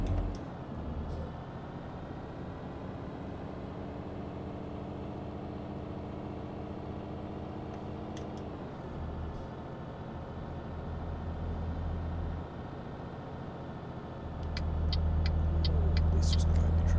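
Heavy truck engine in a trucking video game, labouring up a steep ramp with a steady droning roar whose pitch dips and shifts as it strains, then rising louder toward the end.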